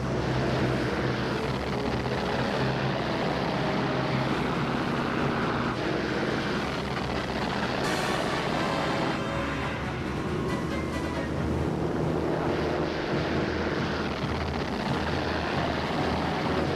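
Japanese warplanes taking off at dawn on Sunday 7 December for the Pearl Harbor attack, a dense, steady engine roar that fills the whole stretch and swells slightly midway, with no voices.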